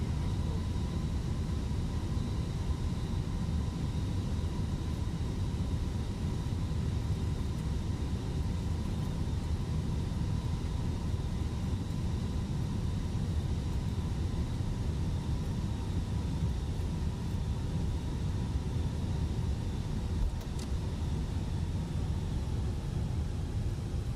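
A Fenix A320 airliner taxiing in Microsoft Flight Simulator 2020, a steady broadband engine roar with faint high whining tones holding level and close for the whole stretch, no talking.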